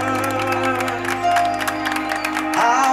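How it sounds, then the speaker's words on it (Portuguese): Crowd applause at a birthday celebration for a mother: a steady wash of clapping and cheering, with voices and music-like tones mixed in, fairly loud and continuous. "Uma salva de palmas para nossa homenageada,"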